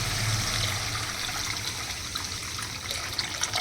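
Water pouring into a cooking pan in a home kitchen, for a dish of aar fish with aubergine: a steady, close splashing trickle that runs continuously with no talk.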